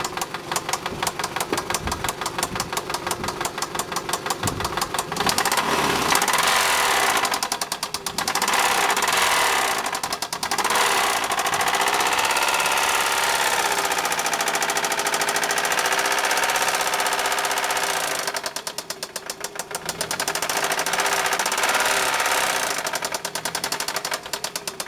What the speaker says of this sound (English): I'm going to get in and accelerate the motor now